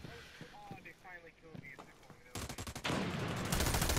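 Gunfire in America's Army: Proving Grounds: someone talks first, then a rapid, rhythmic burst of automatic fire breaks out, followed by sustained loud shooting to the end.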